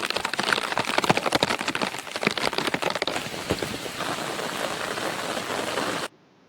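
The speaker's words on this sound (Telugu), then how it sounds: "పొలంలోనైతే కుంభవర్షం మొదలైంది" Heavy downpour over a farm field, a dense, loud, steady hiss of rain striking the ground and leaves, with sharper spattering in the first half and no voices, then cutting off abruptly at the end.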